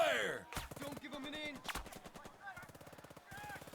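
Bursts of .50 cal machine-gun fire in the World War II strategy game Burden of Command, set in the Anzio trenches, with several rapid rattling volleys separated by short pauses, plus other game sounds, and no voices heard.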